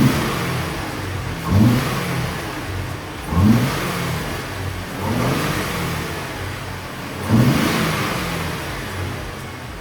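2022 Ford Raptor engine fitted with an AFE Magnum Force Stage 2 cold air intake, revved four times in a row, each rev rising and falling back to idle, loud and close with intake rush, no talking.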